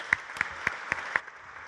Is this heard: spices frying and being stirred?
no